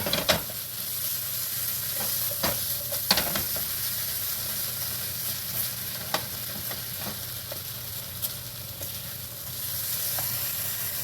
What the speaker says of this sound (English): mix it all up real good.